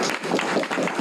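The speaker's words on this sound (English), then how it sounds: "give our panel a huge clap?" An audience in a room applauds the panel at a book launch for a title on social and emotional learning: dense, steady clapping lasting about a second, with no voices over it.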